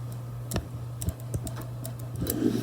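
Faint, irregular plastic clicks and creaks, a few sharp ticks scattered over a low hum, as the tail of a 1/400 scale Boeing 747-400 model airplane is wiggled.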